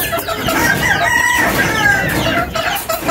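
Roosters and chicks at feeding time, a loud, close chorus of crowing and clucking that overlaps continuously, with no speech.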